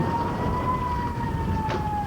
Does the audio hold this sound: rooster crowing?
no